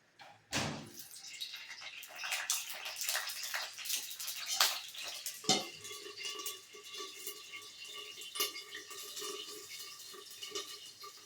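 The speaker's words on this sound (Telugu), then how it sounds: "ఆయిల్ కాగాక పచ్చిమిరపకాయలు వేసేసుకుందాం" Green chillies dropped into hot oil in a pan: a sudden sharp burst followed by continuous crackling and hissing sizzle with scattered pops, close and moderately loud.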